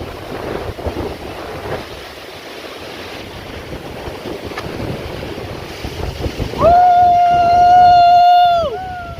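Strong wind buffets the microphone on a forested trekking hill near Dindigul, a rough gusty roar throughout; near the end it grows louder and a sustained whistling tone rings over it for a few seconds.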